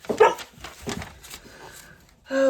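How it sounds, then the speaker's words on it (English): A dog indoors gives a few close barks and whimpering yips at the start, then quieter vocal sounds fade before a sustained louder noise at the end. "I have a dog who thinks that he has to bark at me every hour on the hour"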